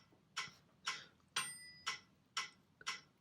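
Metronome ticking a steady tempo for a music lesson, six crisp evenly spaced clicks about half a second apart, close and fairly quiet, with no voice over them.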